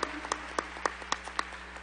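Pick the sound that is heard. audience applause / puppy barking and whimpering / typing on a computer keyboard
audience applause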